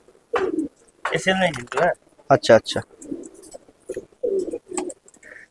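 Punjabi Malwai pigeons, male and female in a loft, give low, soft cooing phrases in short bursts that are partly masked by someone talking close by through most of the clip.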